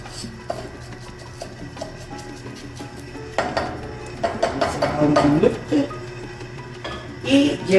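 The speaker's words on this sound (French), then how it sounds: "Il ne faut pas brûler les riz, c'est juste les mélanger." Washed rice being stirred in a cooking pot for Bolivian green rice: scraping and clinking of a utensil against the pot, faint at first then louder and busier, with a voice speaking over it.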